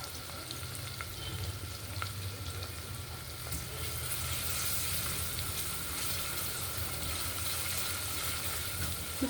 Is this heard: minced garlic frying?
yes